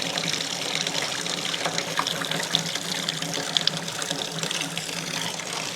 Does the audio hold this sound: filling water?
yes